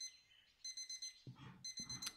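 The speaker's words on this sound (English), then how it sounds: "Can I just sit and ignore this alarm forever?" Electronic alarm beeping in the video game Routine, fast repeating bursts of high bleeps starting and stopping twice, with a couple of dull thuds between them, no talk.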